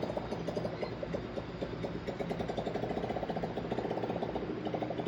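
A red motorcycle engine runs at night, a low rhythmic idling chug with a steady pulsing beat, moderately distant and continuous throughout with no voices.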